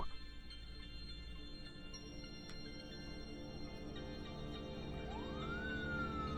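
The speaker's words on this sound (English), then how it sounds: "the sounds of sirens wailed ever closer and closer in the distance" A police siren wails steadily, rising and falling over a low rumble of traffic, with a fresh upward sweep near the end.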